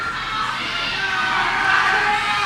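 At a tag-team championship wrestling event, an arena crowd keeps up a steady roar of cheering and shouting, moderately loud and unbroken, swelling slightly near the end.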